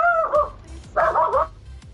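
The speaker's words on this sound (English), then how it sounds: "dog sounds pissed" A dog lets out a couple of short, sharp barks or yelps, close and fairly clear, with quiet pauses between them.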